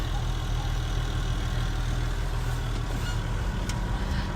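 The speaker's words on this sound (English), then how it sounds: "I'm sat in the tractor on post knocking duties" A tractor engine idles steadily nearby during evening fence post knocking on a farm, a constant low rumble with no talk over it.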